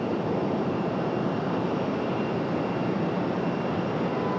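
A passenger aircraft arriving at Raleigh Durham airport from Pittsburgh, heard as a loud, steady jet roar that holds evenly throughout with no talking.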